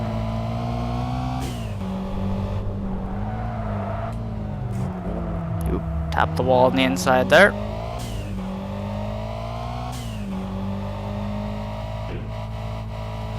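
A car engine revs in the racing game Kaido Racer, a steady mid-pitched drone that rises and falls through gear changes, with a brief cluster of sharp squeals and scrapes in the middle as someone talks over it.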